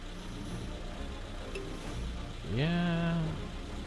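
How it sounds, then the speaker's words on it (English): Car engine in the PS3 game Afrika during a cheetah hunt, a low steady idle hum that swells into a rising then steady revving tone partway through, with no talk. "I can still hear the car engine."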